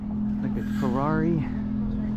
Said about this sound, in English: Another Ferrari. An older Ferrari.